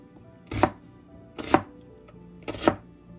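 A knife chops an onion on a cutting board in three evenly spaced, crisp strokes, each about a second apart. Quiet pauses fall between the cuts, and no one speaks.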